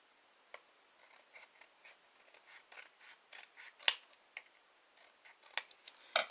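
Scissors cutting card paper into a round shape: a series of short, close snips at an uneven pace, quiet between cuts, with a few sharper clips toward the end.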